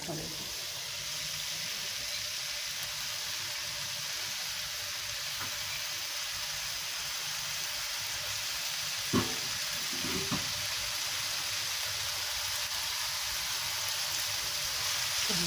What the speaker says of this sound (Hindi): जैसे ऑयल गर्म होता है हम इसमें प्याज शामिल करेंगे।